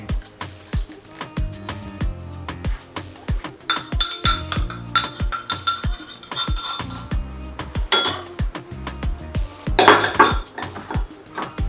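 A spoon or whisk works Kinder Bueno cake batter in a bowl with cocoa powder, making rhythmic clinks and taps against the bowl's side. The strokes come steadily, close up, with brighter scraping bursts now and then.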